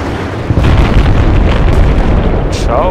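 Bombs from an air strike exploding in the video game Battlefield Bad Company 2, a loud, deep, rumbling blast that starts abruptly and keeps roaring with debris for several seconds.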